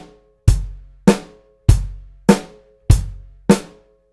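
Drum set playing a basic 4/4 beat, six deep, punchy hits at a steady, even pace about 0.6 seconds apart, each ringing briefly, close and clean with no talking.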